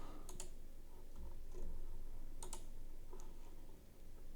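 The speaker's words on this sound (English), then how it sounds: "I'm clicking the checkbox" A computer mouse clicks a checkbox with a few faint, sharp clicks spaced irregularly over a quiet room background.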